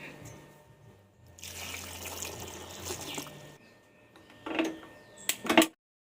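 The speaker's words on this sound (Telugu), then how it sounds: "ఇవన్నీ మునిగేదాకా మనం వాటర్ అనేది పోసుకుందాం" Water is poured into a pressure cooker over ingredients to be boiled, a gentle trickling stream giving way to a few louder splashing gushes near the end.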